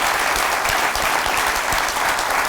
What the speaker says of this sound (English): Nilay had a wedding, so give him a round of applause.